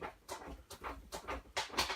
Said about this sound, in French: Ça, c'est mon chien, désolé.